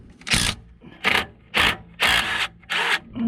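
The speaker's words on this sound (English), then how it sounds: "I should be able to whiz off with a little impact" A small impact wrench whizzes in five short, loud bursts with brief pauses between them while undoing an E12 wear sensor bolt on the front brakes of a 2009 Mercedes-Benz W204 C200.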